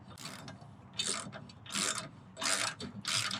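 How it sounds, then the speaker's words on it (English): A ratchet fitted with a 5/8 inch socket tightens a bolt on a 2020 Toyota Tacoma TRD Pro bed stiffener, giving four or five bursts of clicking strokes that are close and fairly quiet. "I'm going to use my 5/8 inch socket"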